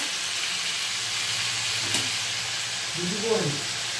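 Potatoes frying in a pan in a home kitchen, with a steady broad sizzle running throughout at moderate level and a brief voice-like tonal sound near the end.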